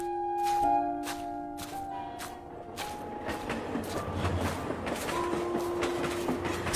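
A local train, rendered as a cartoon sound effect, pulls in with rhythmic clickety-clack beats and sustained horn tones, steady and fairly close.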